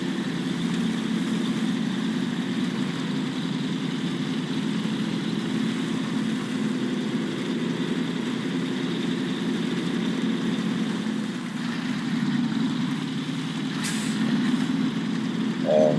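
A SnowRunner truck engine labors steadily under the weight of a heavy trailer, its low drone holding constant and close for sixteen seconds with only a faint hiss near the end and no speech.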